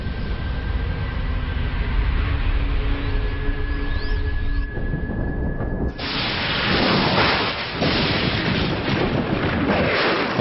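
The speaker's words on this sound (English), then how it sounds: "Thunderstorms." A thunderstorm rumbles and hisses with steady rain, starting as a broad noisy wash, then surging into a louder roar of downpour and thunder midway, with no voices.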